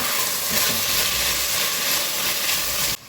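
Ingredients fry with cumin in a pan for a lenten bean soup roux, giving a steady, loud, close sizzle that hisses continuously before cutting off abruptly near the end.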